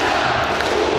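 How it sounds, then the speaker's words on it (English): Ukraine's players stand on the pitch after a 1-1 Euro 2024 qualifier against England and clap in unison above their heads, Icelandic style. A loud, dense wash of stadium crowd noise fills the brief moment, so the separate claps don't stand out. "the Ukrainian players doing the Icelandic style applause, all of them on the pitch, clapping in unison above their heads."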